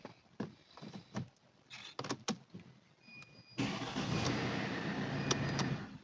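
A Mercedes C-Class W204 fitted with a steering lock emulator starts up after several clicks and clunks, the engine catching partway through and settling into a steady, moderately loud idle.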